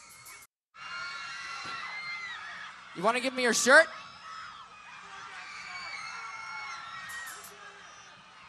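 A concert crowd screams, whoops and shouts in a loud sustained roar, with a sharper burst of yelling in the middle, while a nearby voice speaks over it.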